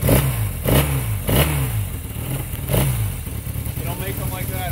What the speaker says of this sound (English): Hey, rev it up a little bit.